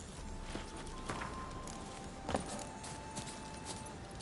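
Roach the horse's hooves clip-clop in a steady walking rhythm in The Witcher 3, moderately close with a faint background ambience.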